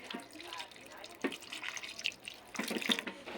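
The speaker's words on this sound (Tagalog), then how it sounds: "Lagyan natin siyang konting tubig." Water is added to a cooking pot of vegetables simmering in coconut milk with chili and vinegar, giving a couple of short splashy pours over faint kitchen background.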